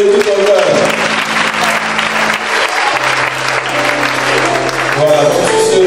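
A church congregation at an Assemblies of God gathering in Côte d'Ivoire applauds loudly and steadily, the dense clapping running unbroken throughout, with sustained musical tones underneath.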